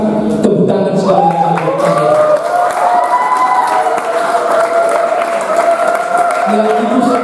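Students applauding at a school presentation event: sustained crowd applause and cheering with voices talking and calling out over it, loud throughout.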